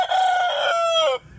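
A Talisayan chicken calls once, a loud, close, drawn-out crow-like cluck lasting about a second, ending abruptly with no other sound.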